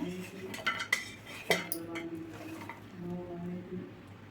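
A spoon works through a thick spiced batter with chopped okra pieces in a bowl, giving irregular metallic clinks and wet squishing scrapes, close and fairly quiet, with no voice over it.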